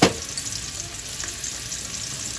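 Red and green peppers hitting a hot pan of oil while making plantain soup, a sharp initial crackle settling into a steady soft sizzle, close and moderately quiet with no talking.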